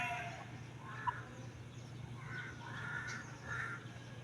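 Several large crows caw repeatedly from a distance, a series of harsh calls spread through the clip over a steady low background hum.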